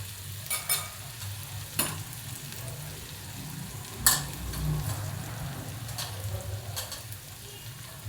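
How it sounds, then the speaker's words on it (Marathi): Sliced onions frying in a pan for onion chutney, a steady close sizzle with a low bubbling undertone and occasional scraping stirs of a spoon against the pan. "कांदा चांगला आता परातलाय आता लालसर झालाय"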